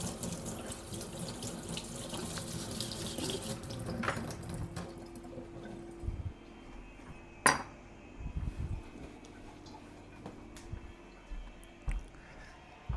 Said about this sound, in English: I'm just going to rinse the knife as well.